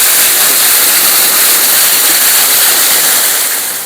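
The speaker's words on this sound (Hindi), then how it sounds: "अभी मैं आपको यहाँ पर झरना भी दिखाने वाला हूँ।" A mountain waterfall in Sarthal Valley during rain roars as a loud, steady, broadband rush of falling water, close and unbroken throughout.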